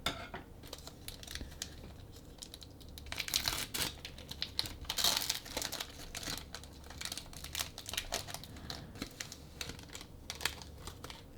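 Pokémon TCG booster pack being torn open, crinkling foil wrapper and tearing plastic in bursts of crackly rustling, close and fairly loud, with handling noises between the louder rips and no talking.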